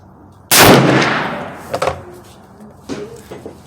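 One loud rifle shot from a Browning BLR in .358 Win or a Henry 45-70 Govt at a 50-yard range, a sharp blast with a long rolling tail, followed by faint knocks.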